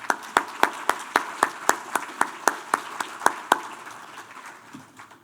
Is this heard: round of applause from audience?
yes